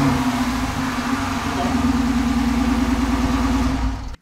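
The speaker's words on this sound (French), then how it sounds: "Et je tourne bien sur 8 cylindres." A car's V8 engine idles steadily on ethanol fuel, a constant low rumble with a firm mid-range hum, running close and loud without revving until it cuts off at the end.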